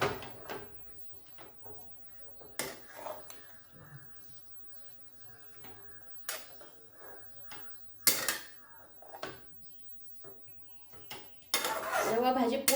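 Fresh fenugreek greens from the farm are stirred in a pan. Soft, uneven metal-on-pan scrapes and clinks come in scattered bursts over a quiet background.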